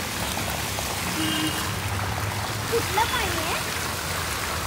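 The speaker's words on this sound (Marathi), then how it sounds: "पाऊस बघा किती पडतोय" Heavy rain pours onto a market street in a steady, dense hiss with splashing water, continuous and fairly loud, with brief voices and faint background sounds mixed in.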